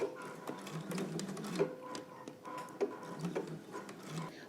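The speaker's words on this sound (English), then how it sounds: "Now I'm just going to stitch down the other long edge as well as the short pressed edge." A sewing machine stitches down the long and short pressed edges of a fabric belt loop, running in a steady mechanical whir with uneven starts and stops, close and moderately quiet.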